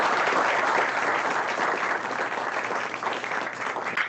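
A crowd applauds steadily, a dense wash of clapping that holds at full strength throughout and only thins slightly toward the end.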